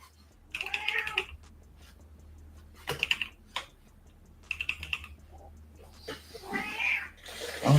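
A pet cat meows several times, fairly close, in a quiet room where computer keyboard typing clicks away between the calls, the last meow rising louder at the end.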